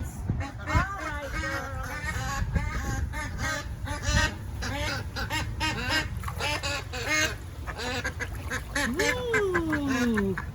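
Ducks quack busily while swimming with other ducks at a Suffolk County farm, with dense overlapping calls close by and a person talking over them.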